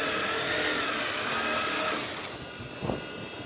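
A sewing machine runs steadily while stitching the side seam of a ladies' trouser, with a loud continuous mechanical whir that drops away near the end, followed by a brief thump.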